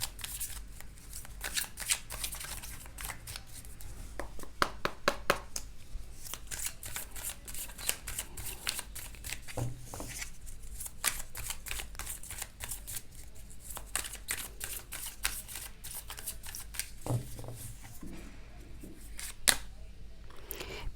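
Tarot cards being shuffled and handled, with rapid riffling and flicking bursts repeating throughout at close range, plus occasional soft thumps and handling noise.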